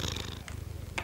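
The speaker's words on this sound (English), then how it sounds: "purred louder to tell him that she would go with him" A cat purrs steadily and close up in a quiet room, a low continuous rumble lasting about a second with two brief soft breathy accents on top.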